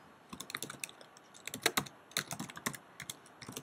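Quick, irregular clicks of typing on a computer keyboard, close and fairly quiet, in bursts of keystrokes with no talking.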